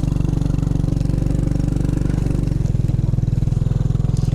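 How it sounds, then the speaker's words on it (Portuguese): A small motorcycle engine drones steadily and loudly up close while riding, with a low rapid pulsing throb that shifts pitch slightly partway through as it labours along a rough track on the way to a rural ecological horseback ride. "A moto tá rebolando aqui pra um lado e pro outro, ó."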